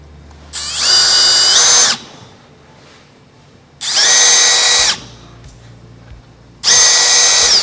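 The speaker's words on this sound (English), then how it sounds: "you can start drilling with the 8mm drill bit" A power drill with an 8mm bit whines loudly in three bursts of about a second each, drilling holes to fit a car's rear diffuser, separated by quiet pauses, with a high steady motor tone.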